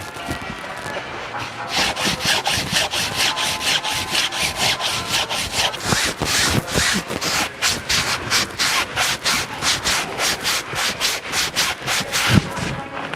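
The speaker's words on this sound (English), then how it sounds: "so it's all going to be hand sanding." Steady, rhythmic hand sanding on a wooden boat hull, close up, with quick back-and-forth rasping strokes repeating evenly for several seconds.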